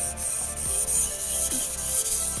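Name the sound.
knife sharpening strokes on whetstone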